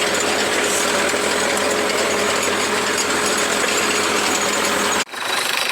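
A steady, loud tractor engine drone runs continuously at a raised, busy pitch with the hand throttle up, then dips abruptly near the end and begins to build again.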